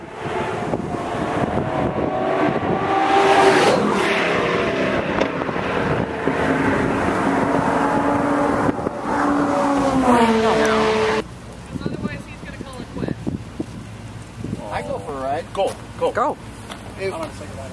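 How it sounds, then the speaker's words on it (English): A crazy black race car driving past on the Blackhawk Farms raceway during an employee family day, a loud engine whine rising and falling as it passes, with wind noise and people talking nearby. "Don't get hit by this guy driving this crazy black car."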